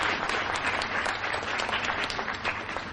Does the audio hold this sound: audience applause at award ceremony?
yes